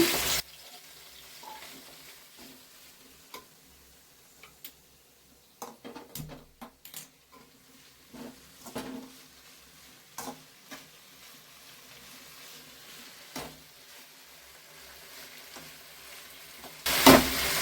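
Washed mint leaves drop into a hot pan and fry with a low, steady sizzle, broken by sharp clatters and stirring knocks, with a louder burst at the very end.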